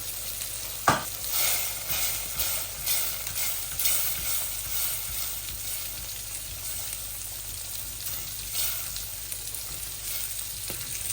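Chilli sizzles and crackles in hot oil in a pot, with occasional stirring scrapes and a sharp clink early on.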